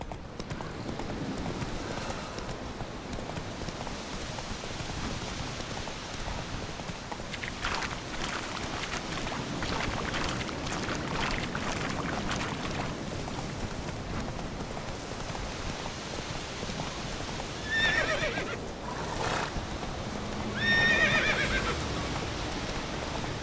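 Roach, a horse in The Witcher 3 video game, gallops with steady rhythmic hoofbeats over a windy background, rising into two loud neighs near the end.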